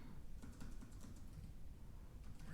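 Quiet, rapid key clicks from a computer keyboard as commands are typed, close and soft, with no voices.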